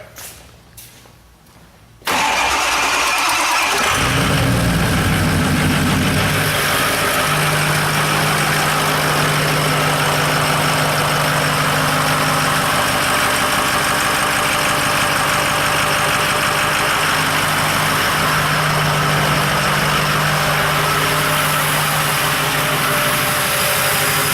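A Ford 6.0 Powerstroke diesel crew cab truck engine cranks briefly, fires and settles into a loud, steady clattering idle with a constant low drone and knock, heard close with no talking.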